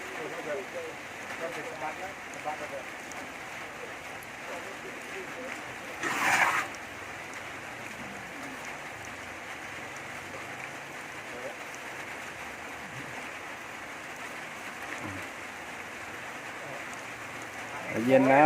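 A steady, even hiss of rain falls throughout, with a brief louder swell partway through and faint background voices.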